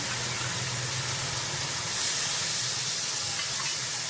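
Spices sizzling in hot oil while being sautéed for a Bengali fish curry of rohu and ridge gourd, a continuous close hiss that grows louder partway through, with no talking.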